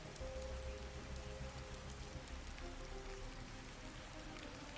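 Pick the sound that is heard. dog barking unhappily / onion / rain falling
rain falling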